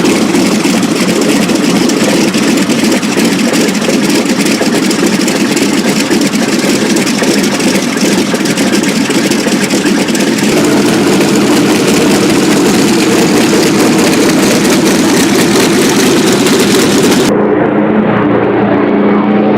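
The 46-liter, 18-cylinder, 2,000-horsepower Pratt & Whitney R2800 radial engine of a World War II P-47 Razorback Thunderbolt runs steadily in a loud, continuous roar, and the sound changes abruptly near the end.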